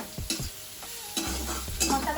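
Ginger garlic paste and spices frying in hot oil with dried chillies, bay leaves, onion and tomato, stirred with a spoon: a steady close sizzle broken by several scraping stir strokes, with no talking.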